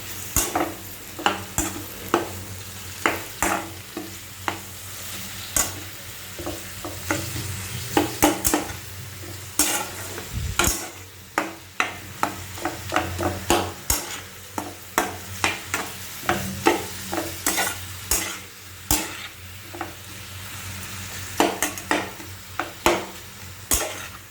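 Chopped onion and boiled potatoes are stirred and mixed in a pan: a long run of frequent, rhythmic spatula clacks and scrapes against the pan over a low sizzle, close by, with no talking.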